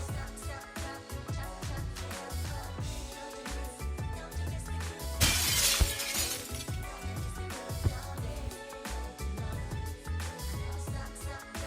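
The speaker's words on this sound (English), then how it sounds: "just add the sound effect of a window breaking" Window glass shatters loudly in a bright, noisy burst about midway through, laid over busy background music that runs the whole time.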